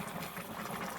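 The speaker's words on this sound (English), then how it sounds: "I'm getting the big bubbles, Tanya." A Saeco Magic Comfort+ espresso machine's steam wand froths milk, giving a quiet, continuous bubbling hiss with big bubbles gurgling through it.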